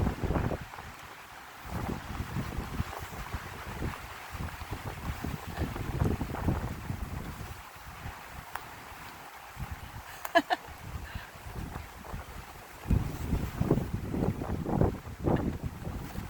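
Wind gusts buffet the microphone outdoors on open water during a boat outing, a steady low roar rising and falling throughout, with people talking intermittently.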